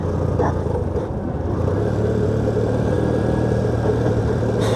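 A troubled motorbike with an intermittent earthing fault runs steadily on a mountain road toward Bogalake in Bandarban, a constant low, close engine drone with a rough idle character and no pauses.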